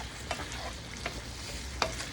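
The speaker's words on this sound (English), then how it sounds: "we're going to stir it around, get the seasoning all over the shrimp as well" Seasoned shrimp stirred in a well-seasoned pan, with a steady low sizzle and a few sharp scrapes of the utensil against the pan, close and alone.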